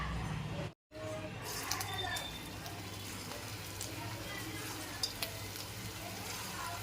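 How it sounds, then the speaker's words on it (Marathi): Potato balls frying in hot oil for a kids' snack, a steady close sizzle and bubbling crackle that carries on throughout with a few small pops, with a brief silent gap near the start. "चला आता तेलही गरम झाले फ्राय करून घेऊया"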